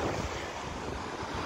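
Steady wind buffeting a microphone outdoors, a constant loud rush with low gusty rumbles and no voices.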